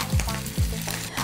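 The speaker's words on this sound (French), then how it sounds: "On termine la friture avec nos steaks sortis du réfrigérateur." Beef steaks frying in a hot pan for hamburgers, a steady close sizzle broken by two quick scraping stirs.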